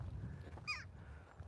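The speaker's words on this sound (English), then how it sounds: "That one actually might be a jackdaw rather than a crow." A crow or jackdaw gives a single short caw at moderate distance, standing out briefly over low outdoor rumble on a dog walk.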